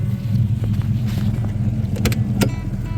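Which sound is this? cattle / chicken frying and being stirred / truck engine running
truck engine running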